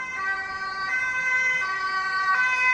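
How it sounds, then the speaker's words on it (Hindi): An ambulance siren passing along a street in the Netherlands, a loud, steady wailing two-tone pattern that repeats several times over a faint traffic hum. "ये देखिए, अभी एम्बुलेंस जा रही थी"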